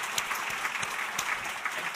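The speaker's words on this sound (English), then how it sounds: "a round of applause for our two panelists" An audience at a fireside chat on Amazon Project Kuiper and OneWeb claps steadily for two panelists, a dense, moderately loud patter of many hands.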